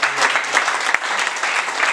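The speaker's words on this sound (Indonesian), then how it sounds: "Tepuk tangan dulu untuk anak-anak." Applause for a group of children at a gathering honoring the Sultan of Deli, a brief, dense round of crowd clapping, loud and close, with one sharp clap standing out.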